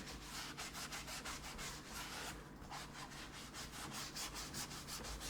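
Steady rhythmic scrubbing of a white shoe's cushioned rubber sole with a Mr. Clean Magic Eraser, close and continuous, with quick back-and-forth rubbing strokes and a brief pause midway; no talking.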